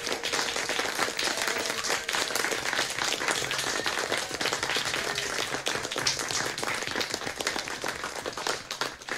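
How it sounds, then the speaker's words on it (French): Dense, sustained clapping from a group applauding healthcare workers just after 9 pm, a steady crackle of many hands throughout, with no talk over it. "nous vous applaudissons."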